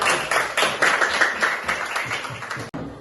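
Classroom group applause for a student team, a few seconds of brisk, dense clapping from many hands that fades toward the end and ends with a brief cutoff.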